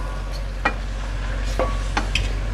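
Soft kitchen sizzling as beef is fried with garlic and ginger in a pot, with a few scraping stirs of a utensil and steady low cooking noise underneath.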